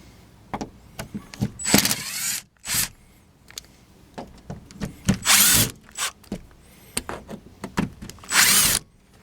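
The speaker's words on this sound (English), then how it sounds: "let's get in here and get these old screws out" A power drill backs old hex head screws out of a mobile home window frame in repeated short whirring bursts, some longer and louder, separated by pauses with small clicks and handling knocks.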